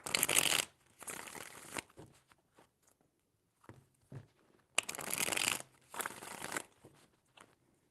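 Tarot cards being shuffled in several bursts, close and crisp, with two long riffling runs separated by quieter taps and card handling, no speech.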